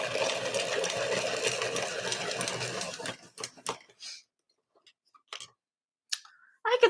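Colored pencil being ground in a sharpener, a steady close scraping for about three seconds, then scattered faint clicks and small handling sounds.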